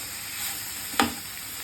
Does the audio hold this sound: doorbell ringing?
no